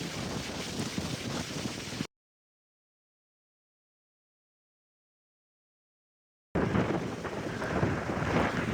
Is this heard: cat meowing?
no